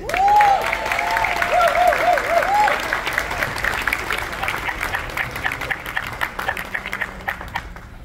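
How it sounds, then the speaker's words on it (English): A large crowd at a company event applauds loudly and continuously, with cheering voices rising over the clapping at the start. "let's give a big round of applause to Miss La Arnie Forbes."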